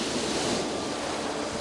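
Ocean waves wash in a steady, even broadband rush of surf, continuous and unbroken for a brief moment.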